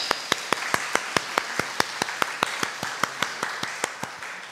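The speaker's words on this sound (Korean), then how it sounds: "우리 박수로 환영하겠습니다." A church congregation at an early-morning service claps together in a steady, evenly spaced rhythm, about four claps a second, moderately loud and without talk.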